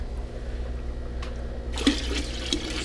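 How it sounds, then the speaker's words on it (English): Salt water for a rotifer culture pouring back into a mixing bucket, a quiet trickle that swells into a louder splashing gush partway through, with a couple of brief spikes. "So what I'm going to do is just literally pour it back."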